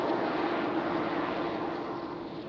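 A jet airliner landing on runway 32 at Raleigh-Durham International Airport makes a steady broadband roar, fairly distant and even, fading slightly toward the end, with no talk over it.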